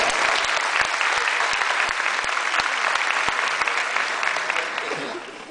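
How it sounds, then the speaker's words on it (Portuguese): Steady, loud applause from an audience at a lecture on blogs and digital entrepreneurship, with dense clapping and a few sharper individual claps standing out, slowly easing off toward the end. "é a Marina Damas, uma salva de palmas para ela."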